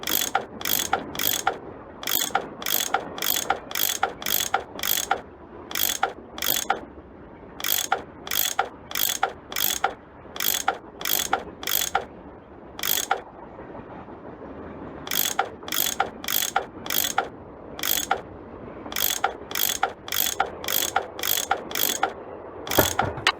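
A ratchet tool unscrewing bolts in a Nancy Drew adventure game: repeated quick metallic clicking strokes in steady rhythmic runs, close and clear, with short pauses between sets and no talk.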